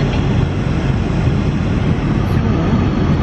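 A loud, steady roar of aircraft cabin noise on a flight from Florida to Glasgow, a dense broadband rush that never varies. No voices.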